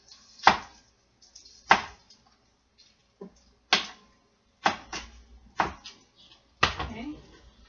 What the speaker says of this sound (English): you turn your onions, and then you cut them into little short pieces the other direction here